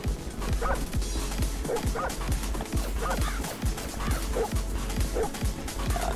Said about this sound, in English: Ooh, no, that's a dog.